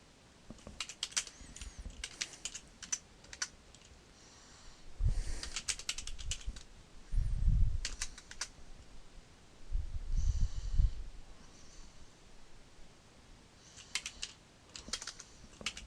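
A computer keyboard is typed on at close range while a root password is entered, with bursts of soft clicking keystrokes separated by brief pauses and heavier thumps at intervals.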